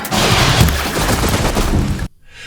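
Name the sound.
machines shooting lasers in the video game Horizon Zero Dawn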